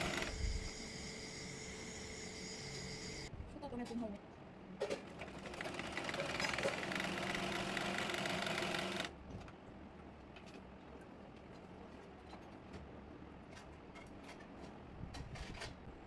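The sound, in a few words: sewing machine stitching fabric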